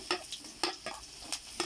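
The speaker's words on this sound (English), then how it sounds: "you can fry it in the oil" Red onion frying in oil in a pan with bay leaf, sharp scraping stirs and clacks repeating about every half second over a soft sizzle, close up with no talk.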